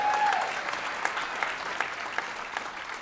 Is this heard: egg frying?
no